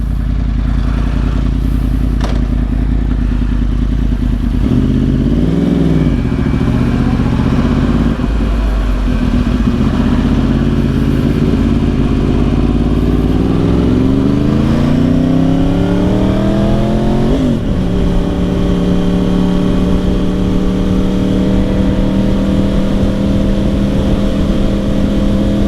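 A 2010 Yamaha R1 1000cc sport motorcycle on the road, its engine droning loudly and continuously under heavy wind rush, with rising revs as it accelerates through the gears and the pitch climbing and shifting several times.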